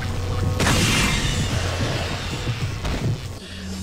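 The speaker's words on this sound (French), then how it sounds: "Je vous avais dit qu'elles étaient pratiques, quand même, ces petites grenades aveuglantes" A flash grenade detonates in Resident Evil 4, a sharp, loud bang at about half a second followed by a sustained rumbling wash of blast noise and scattered combat sounds that fade toward the end.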